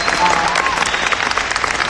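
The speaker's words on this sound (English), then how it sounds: "Round of applause for Wacom." At a design conference, a crowd gives the Wacom team a round of applause: brisk, continuous clapping for about two seconds, with a few voices under it.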